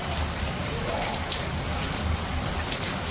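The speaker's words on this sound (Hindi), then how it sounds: "सावन की बरसात हो रही है" Monsoon rain pouring steadily outdoors during the Sawan season, a continuous dense hiss of drops with soft low rumbling beneath, no voices.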